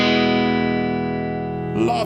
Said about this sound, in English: let's check out the Spring Reverb, everything at 12 o'clock